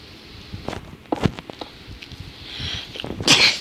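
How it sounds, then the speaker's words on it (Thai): A single close, loud sneeze near the end, preceded by scattered soft taps and shuffling sounds. "ขอโทษ ขอไปนะจามเมื่อกี้"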